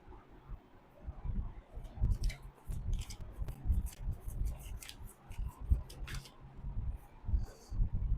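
Tarot cards shuffled and handled during a love and relationship reading, giving a run of soft papery riffles and light slaps that recur through the clip over a low background rumble.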